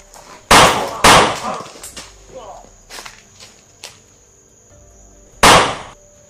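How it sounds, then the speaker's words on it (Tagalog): Several sharp gunshots crack out at irregular intervals, loud and close, separated by quieter rustling and faint background noise. "May putok dito, Commander. Binaril yung kasamaan natin."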